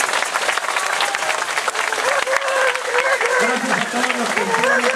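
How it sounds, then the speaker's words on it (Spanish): A crowd at a dance gathering claps loudly and continuously for a few seconds, with voices and cheers rising through the applause. "Quiero que nos demos primero todos un aplauso."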